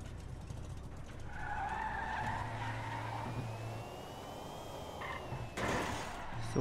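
Video game car driving with tyres skidding and squealing over a running engine drone, plus a few short knocks near the end, all fairly quiet.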